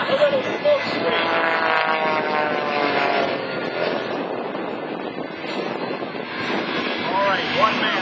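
A jet-powered truck with three jet engines and afterburner roars at an airshow in Cleveland, a loud sustained engine howl with shifting tonal whine, while an announcer talks over the noise.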